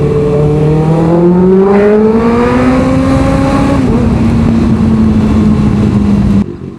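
Engine of a big bike loud and close while riding through heavy road traffic, rising in pitch as it accelerates through the gears, then holding a steady drone before cutting off near the end.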